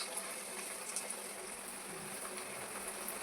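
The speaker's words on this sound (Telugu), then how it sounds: "దీన్ని కొంచెం ఇలా పట్టుకొని నిదానంగా ఆయిల్లో వేసుకోవాలి" Sweet corn samosa sizzles in hot oil with a continuous, even crackling hiss that holds steady throughout, and no voices are heard.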